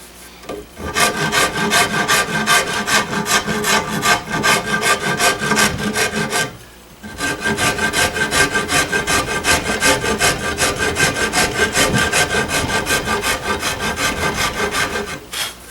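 A coarse rasp rounds a wooden gunstock, removing bulk stock. It scrapes in steady, rapid back-and-forth strokes, loud and close, with a brief pause midway before the rhythmic rasping resumes. No talking.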